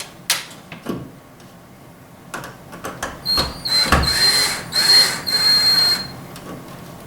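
Screws being driven into a plastic electrical box set in a wall during a TV install, heard as a few short clicks and knocks followed by a few seconds of steady whirring from a screwdriver, close and fairly loud.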